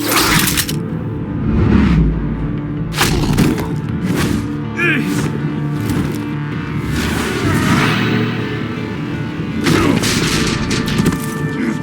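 Gunfire and booming shots in the Batman: The Enemy Within video game, several sharp bangs standing out over a dense layer of dramatic score and effects, with voices talking in between.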